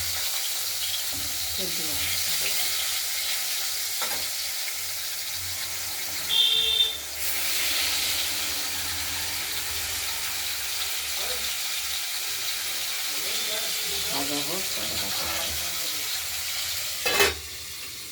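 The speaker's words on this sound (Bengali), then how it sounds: "মাছগুলো ভাজা হয়ে গেছে প্রায়।" Fish frying in oil for a fish curry, a soft steady sizzle and hiss at moderate distance, with faint stirring scrapes and two brief louder clatters.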